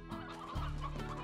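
Chickens clucking in the game Slime Rancher, a few close, busy clucks and squawks running together over a steady low background hum, with no talking.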